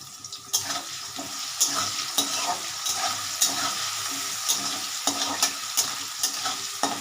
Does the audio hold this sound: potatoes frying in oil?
yes